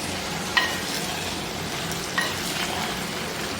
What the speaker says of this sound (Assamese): এতিয়া দেখিছোঁ ধুনীয়াকৈ মিলাই লৈছোঁ মছলাটোত